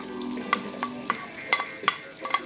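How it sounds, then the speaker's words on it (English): Onions sizzle and fry in hot bacon fat for a Jamaican steamed cabbage dish, a steady crackle broken by several sharp spoon clinks and stirring scrapes, close and clear with no talking. "Alright, I'm going to add my onions into the bacon."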